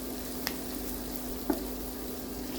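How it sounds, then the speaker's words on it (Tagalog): Green beans fry in a pan with a faint, steady sizzle and two brief clinks of stirring, heard alone with no voices. "After a few seconds, let's add frying our green beans."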